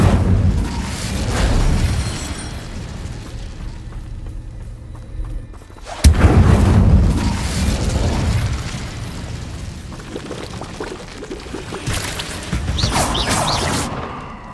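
Incendio fire spell blasts in the Hogwarts Legacy video game, loud repeated whooshing bursts and booming eruptions filling the whole stretch, one sharp burst near the middle, with no talk.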